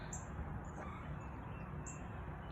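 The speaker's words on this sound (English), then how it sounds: "Did you guys hear the birds?" Birds in trees by a school playground give a few faint high chirps over a steady low outdoor rumble, sparse and distant with no voices.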